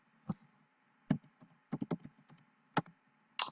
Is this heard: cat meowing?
no